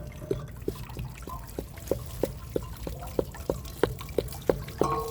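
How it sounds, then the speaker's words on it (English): Water drains and trickles from the anode port of an RV water heater, with quiet regular drips and splashes in a steady rhythm under low background noise. "Be careful, because water is going to come flying out of here."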